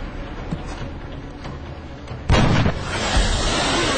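A sharp gunshot blast in the turn-based strategy game XCOM: Enemy Unknown lands with a heavy boom after a quieter ambient stretch, leaving a loud, sustained roar in its wake.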